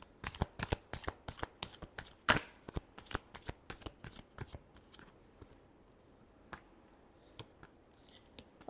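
Tarot cards being shuffled by hand, a quick series of crisp riffling flutters that come in a dense burst at first and then thin out to scattered soft taps, close and fairly quiet.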